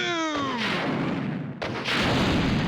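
Weapon explosion in the original Resident Evil 2, a heavy booming blast that cuts off a descending whine, followed by a second loud burst and a rumbling tail.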